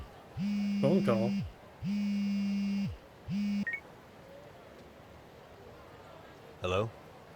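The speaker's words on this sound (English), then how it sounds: "Oh. Phone call." A phone ringing in the Lost Judgment video game, three loud buzzy electronic rings in a row followed by a short final beep, with quiet background between.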